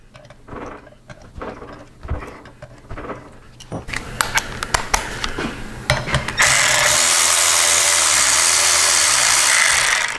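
Torx 40 bit on a small breaker bar cracking loose the bolts of a 21-inch Advanblack Blazer wheel, sharp clicks and rubbing up close, then a loud steady whirring drone takes over through the end.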